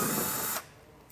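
A power tool whirs steadily while backing out 7mm head screws from the front edge of a 2023 vehicle during a base plate install, then cuts off abruptly, leaving quiet.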